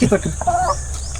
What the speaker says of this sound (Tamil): கருப்பு கோழி.